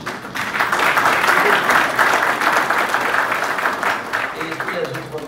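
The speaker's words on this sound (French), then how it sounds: "Et je vous demande aussi de bien vouloir applaudir monsieur le professeur Joseph" Audience applause at a university ceremony launching a law chair, loud, sustained crowd clapping over several seconds with a few voices mixed in.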